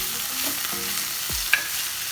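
Paneer bhurji frying in a pan with a soft steady sizzle, broken by a few short scraping stirs of the spatula; close and fairly quiet, no talking.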